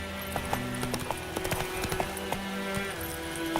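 Geralt's horse Roach galloping in The Witcher 3 video game, a rapid, even clip-clop of hooves over a layer of game music, with no voices.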